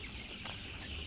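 Eighteen-day-old Sonali super hybrid chickens on a farm at night make a brief burst of soft clucking over a steady background hum.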